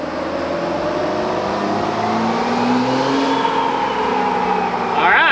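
A truck with a 68RFE automatic transmission, suffering an overdrive failure and unable to shift into fifth gear, accelerates with a loud, close engine drone whose pitch climbs steadily throughout.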